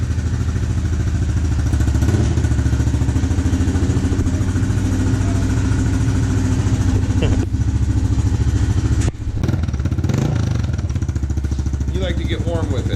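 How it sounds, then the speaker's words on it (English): A Honda CRF110 dirt bike engine runs steadily near the microphone, a continuous loud drone with a clattery edge while it warms up, and a brief dip toward the end. "so Liam, go ahead and fire it up and let's get the oil circulating."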